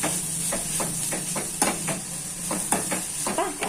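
Fenugreek leaves frying with onion in a pan, a steady close sizzle broken by repeated scrapes and taps as the greens are stirred, with no talking.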